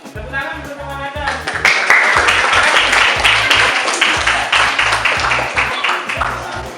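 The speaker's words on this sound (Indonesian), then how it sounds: "tepuk tangan untuk teman Anda" A classroom at MAS Nahdlatul Ulum Maros breaks into applause for a classmate after a presentation: a burst of many hands clapping, fairly close and steady for several seconds, with voices murmuring underneath.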